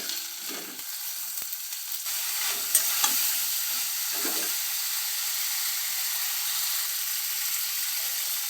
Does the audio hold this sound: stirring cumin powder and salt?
yes